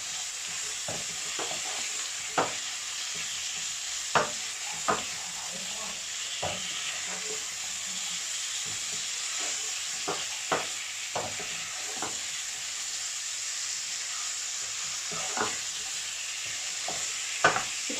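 Steak sizzles steadily in a pan over high heat while a utensil scrapes and taps at irregular intervals, a close continuous hiss with occasional louder knocks.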